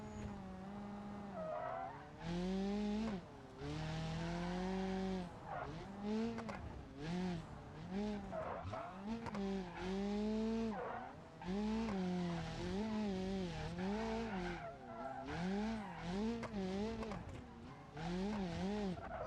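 A car racing around a dirt track in BeamNG.drive, its engine revving up and down through repeated acceleration and easing off, with tires squealing and skidding in bursts, the motor close and continuous.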